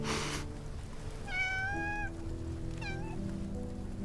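In the video game Love & Deepspace, a cat gives two clear rising-and-falling meows about a second apart, close and fairly loud over a steady background music bed.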